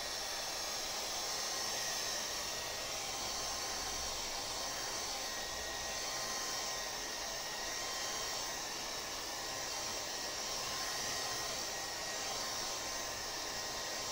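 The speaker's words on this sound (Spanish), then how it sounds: "Voy a apurar un poco el proceso con un secador de pelo" Hair dryer blows steadily across a drying painting, a constant faint hissing whoosh lasting throughout with no voices.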